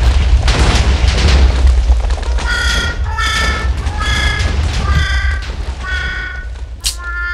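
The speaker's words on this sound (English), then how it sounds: "Must be a big firework." A loud deep boom of a Fourth of July firework explosion opens, followed by a series of crackling bursts and pops that continue to the end.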